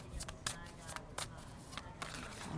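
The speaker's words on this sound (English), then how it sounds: "I'm going to shuffle again." Tarot cards being shuffled in quick riffling bursts, a few distinct flutters close up with quiet pauses between them.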